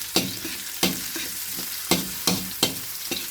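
Garlic sautés in a pan, soft sizzling broken by about five sharp, rhythmic scrapes of a spatula stirring it, close and with no voices.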